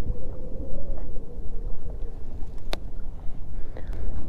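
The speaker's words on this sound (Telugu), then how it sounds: "ఇప్పుడు గాలి అయితే తీవ్రంగా అందుకుంది కొద్దిగా." Strong gusts buffet the microphone on a mangrove forest coast under cloudy skies, a rough, rumbling roar that swells and dips with a few sharp knocks and no talk.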